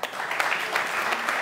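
Studio audience applauding for a team captain on a comedy game show, a dense, steady wash of clapping that holds at an even level for about a second and a half.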